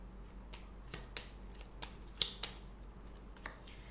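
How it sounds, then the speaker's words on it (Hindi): Tarot cards being shuffled by hand during a reading, a run of soft riffling flicks and papery snaps at an irregular pace, close and fairly quiet over a low steady hum. "I will shuffle again"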